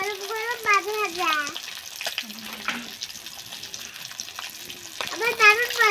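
Pieces of fish frying in hot oil in a Bengali village kitchen, a steady close sizzling hiss that runs under a voice talking throughout.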